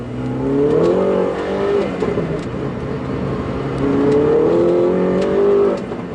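A 288 BHP R56 Mini Cooper S accelerates hard in two loud, rising engine pulls, heard from inside the car, with a brief dip between the surges.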